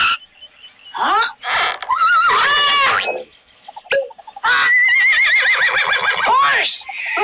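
A cartoon horse gives a loud, close neigh with wavering whinnies in two long bursts separated by short gaps.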